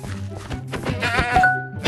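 Goat bleating in the Minecraft video game, a short nasal bleat heard once alongside soft in-game thuds and a light chime, with no talking.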